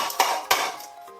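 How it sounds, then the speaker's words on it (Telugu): Roasted ingredients for kandi podi tipped from one vessel into another bowl, giving two quick metallic clinks of utensil against pot followed by faint scraping, close and clear with no talk. "వీటిని ఇంకొక గిన్నెలోకి ట్రాన్స్ఫర్ చేసేసుకుందాం"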